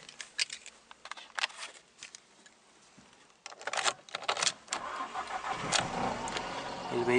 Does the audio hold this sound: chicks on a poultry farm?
no